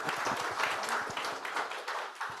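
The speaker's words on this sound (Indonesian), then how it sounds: "Tepuk tangan dulu dong buat Daob 8." Audience clapping at a railway safety talk show for Daop 8, a continuous, moderately quiet patter of many hands with no pauses, easing slightly toward the end.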